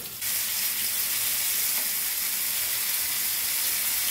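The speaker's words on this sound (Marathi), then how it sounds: "हे बघा आता हे बोंबील ठेवले शॅलो फ्राय करायला," Bombil fish shallow frying in a pan, a steady loud close sizzle of hot oil that starts abruptly and continues without pause.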